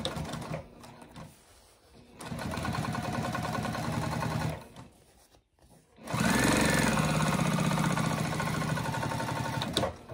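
A sewing machine runs in two long bursts, stitching down the exterior fabric of a small snack-pack style backpack. It makes a steady, close, rapid mechanical hum with a brief pause between the bursts.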